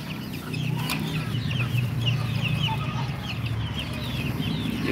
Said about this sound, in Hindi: देख रहे हैं आप ये मुर्गियां सफ़ेद। ये मुर्गा बड़ा ख़ानदानी निकल रहा है